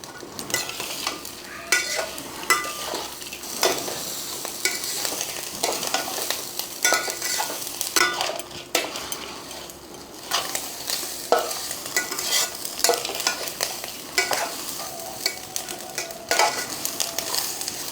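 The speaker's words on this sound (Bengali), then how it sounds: "চালটা ভাজা হয়ে গেছে নাড়াতে নাড়াতে যাতে লেগে না যায়" Rice for basanti pulao fried and stirred in a pan with sugar, a torn bay leaf and homemade garam masala: continuous soft sizzling under repeated scraping and stirring strokes, with occasional utensil clinks.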